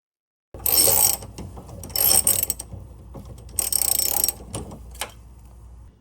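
A ratchet wrench works loose the rear subframe bolts on a second-generation 2002-2006 Honda CR-V, sounding as loud, close bursts of rapid clicking that start after a brief silence, stop and resume, with metallic clinks between.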